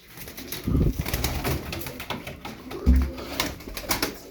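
A tumbler pigeon coos in low, soft bursts, two stronger ones standing out amid fainter bird sounds and light background noise.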